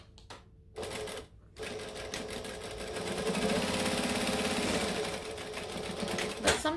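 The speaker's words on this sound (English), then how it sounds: "grab both of these like this before you start stitching" Domestic sewing machine stitching a pocket onto a garment, a close steady mechanical whir that starts after a couple of short bursts and runs continuously, rising slightly mid-run.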